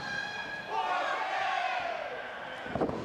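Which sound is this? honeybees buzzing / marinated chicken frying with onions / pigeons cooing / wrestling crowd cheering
wrestling crowd cheering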